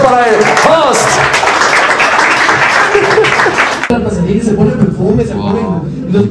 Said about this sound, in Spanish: Un fuerte aplauso para el host.